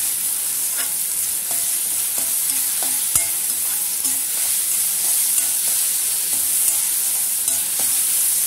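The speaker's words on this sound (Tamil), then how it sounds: "நல்லா வதக்கி விட்டுக்கோங்க." Onions with salt sautéing for a drumstick masala gravy, a loud, even frying hiss throughout with periodic scrape-and-tap stirring strokes from a spoon, close up and without any voices.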